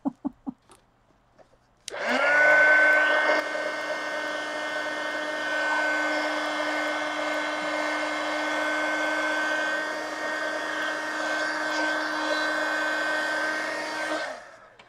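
A hair dryer or heat tool blows steadily on wet paint on a mixed media collage pumpkin, switching on after a few brief clicks and running loud and continuous with a constant whine until it cuts off near the end.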